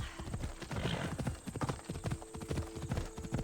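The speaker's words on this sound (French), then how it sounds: "On va prendre le cheval." Video game horse Phobos trotting with rapid, steady clip-clop hoofbeats, close and clear, alongside a faint whinny and a voice speaking quietly.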